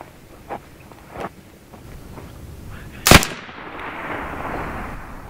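A BIN TAC S45 semi-automatic air rifle fires one loud, sharp crack close by, with a few fainter clicks or pops before it and a lingering hiss after.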